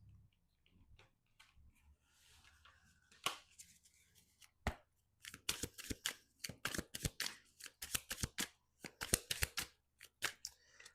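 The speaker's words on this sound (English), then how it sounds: "I already pre-shuffled them, but I'm just going to shuffle them one more time." Playing cards being shuffled, rapid crisp riffling bursts after a quiet start, with a few sharp taps and flicks, close up.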